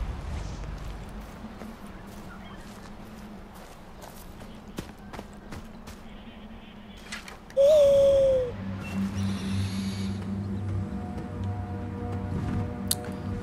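A distant owl call in the Stone Age video game Far Cry Primal, a single short hoot rising out of a steady ambient bed of wind and low hum, followed by faint game tones.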